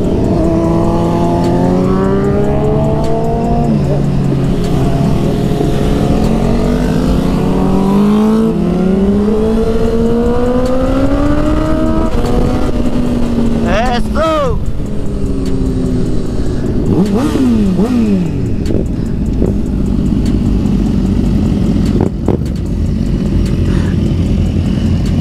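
Loud car engine revving hard at a Brooklyn street bike night, the pitch climbing and falling in repeated surges as vehicles roar close by and pass, continuous over the whole stretch.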